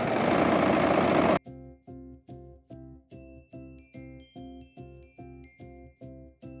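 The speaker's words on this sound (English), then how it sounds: "Next, we're gonna serge center back so it has a nice clean finish for inserting our zipper." A serger overlocks the center back seam of a slip dress, running in a steady rhythmic chug of about a dozen even bursts after a short loud noisy start, close and alone with no talking.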